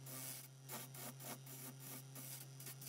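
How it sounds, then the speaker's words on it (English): A hand gouge carves a wooden snowman, removing material in repeated short rasping strokes, close and fairly quiet, about eight strokes in under three seconds. "I do that by coming at it with this gouge here, which removes quite a lot of material very quickly"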